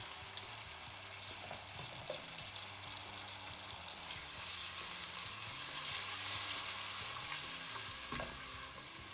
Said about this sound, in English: We're going to cook this for a couple of minutes until we can smell the aroma of the ginger and garlic